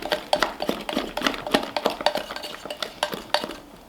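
Buttermilk pancake batter being mixed in a bowl, a steady run of quick clinking and scraping strokes from a utensil against the bowl, close and rhythmic, with no talking.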